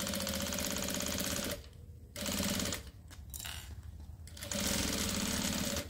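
Domestic sewing machine stitching bias binding along the underside of a zippered bathroom toiletry bag, close and loud rapid whirring bursts broken by short pauses between runs.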